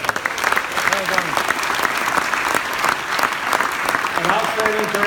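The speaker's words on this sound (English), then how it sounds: "Give it a round of applause." Applause from the audience at an ISS Turkey company event, a full, loud round of clapping that runs throughout, with a few faint voices and cheers mixed into the crowd noise.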